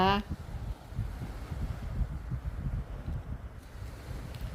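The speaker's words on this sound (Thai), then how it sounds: "เสียงคลื่น ค่ะ ทุกคน เสียงคลื่น" Sea waves at Pattaya beach wash in with a low, steady rumbling surge, heavily mixed with gusting wind buffeting the microphone.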